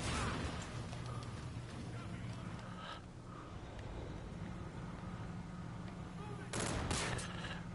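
Gunfire in a shooter video game, bursts of rapid shots and impacts layered over a steady game soundscape, moderately loud with a sharper burst near the end.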